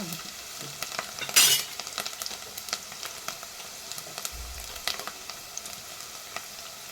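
Pieces of ridge gourd sizzle gently in a pan with onions for a ridge gourd and moong dal curry, a faint steady crackle broken by a few sharper stirring scrapes, with no voices.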